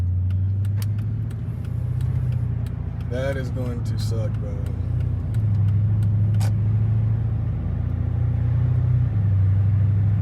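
A 2008 Dodge Charger SRT8 engine rumbles steadily at idle, with a few sharp pops and crackles, while someone talks over it.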